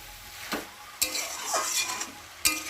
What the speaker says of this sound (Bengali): তো দেখো এখন আমি ভালো করে নেড়ে দেবো।